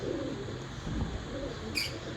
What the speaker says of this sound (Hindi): ये पुराने जो कराची में जो गोल्डन कबूतर हैं, ये उन कबूतरों में से कबूतर है माशाल्लाह।